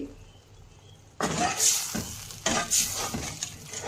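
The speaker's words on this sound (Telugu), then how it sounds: "ఇలా దగ్గర పడేంత వరకు మనము కలుపుతూ ఉండాలి, లేకుంటే గడ్డ కడుతుంది ఫ్రెండ్స్" A mixture being stirred steadily in a pan on the stove so it thickens without lumps, for a breakfast tiffin; close scraping and sizzling strokes start after a quiet moment and continue in repeated bursts.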